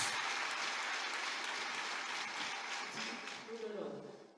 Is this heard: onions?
no